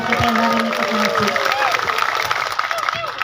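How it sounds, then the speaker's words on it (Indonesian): Crowd at an Islamic religious study gathering (pengajian) in Tanggulangin applauding young attendees: dense, steady clapping from many hands, loud and close, with cheering voices and shouts mixed in for about three seconds. "tepuk tangan dulu buat anak-anak muda kita yang hari ini ikut ngaji"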